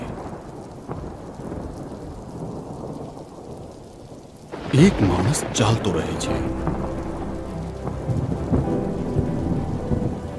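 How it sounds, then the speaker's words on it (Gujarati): Heavy rain pours steadily while thunder cracks loudly and close, then rolls on beneath the downpour; a voice speaks briefly over the storm. "જ્યારે વિશ્વ બંધ થાય છે અને તોફાન આવાજને દબાવે છે"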